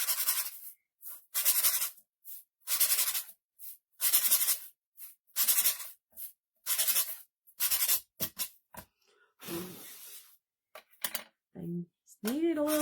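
Rhythmic strokes of sandpaper on small wooden ornaments, about ten brisk rubbing bursts in close succession, loud and near, followed by scattered scraping and a few short sounds of talk near the end.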